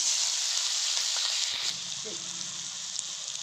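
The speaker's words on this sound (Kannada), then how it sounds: "ಜೀರಿಗೆ ಸಿಡಿದ ಮೇಲೆ ನಾನು ಮೆಣಸಿನ್ಕಾಯಿ, ಶುಂಠಿ ಪೇಸ್ಟ್ ಮಾಡ್ಕೊಂಡಲ್ಲ, ಅದನ್ನು ಸೇರಿಸ್ಕೊಳ್ತೀನಿ" Green chilli and ginger paste sizzles loudly in hot oil with spluttered cumin seeds, a steady close frying hiss with a faint stirring clink partway through.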